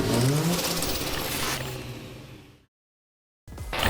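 A car's engine revs loudly and steadily as it is driven into a workshop, the sound holding strong before cutting to a brief silence, then resuming.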